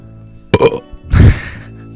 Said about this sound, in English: that was a pretty shitty burp anyway.